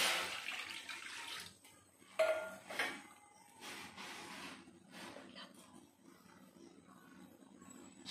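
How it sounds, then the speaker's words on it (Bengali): A bowl of water is poured into a cooking pot in a kitchen, with a few quiet, close splashing bursts and light clinks of metal and no talk. "তার জন্য দিয়ে দেব 1 বাটি জল"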